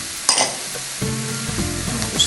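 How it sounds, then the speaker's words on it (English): Cauliflower rice with picante sauce being stirred and folded in a hot pan, a steady sizzle with scraping spoon strokes close up and no talking. "Fold all that together, just like this. Just like that, just stir it around."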